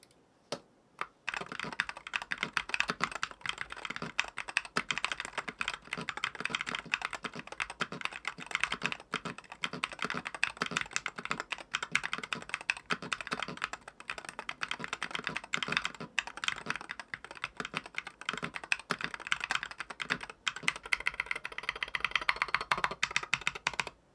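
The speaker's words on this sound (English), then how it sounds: "here's a little sound test with the switches and the keycaps on" Continuous typing on an AJAZZ ALUX 68 HE aluminum-case magnetic keyboard with its switches and keycaps fitted, a quick steady run of close, quiet key clacks and taps with no talk.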